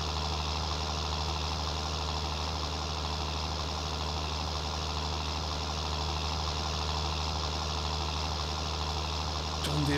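A John Deere tractor in Farming Simulator 19 labours under load, its engine giving a steady, dense droning rumble that holds an even level throughout.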